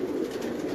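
A single brief, low coo comes from Ustad Haji Yusuf's high-flying pigeons on a big Karachi rooftop, heard close and alone.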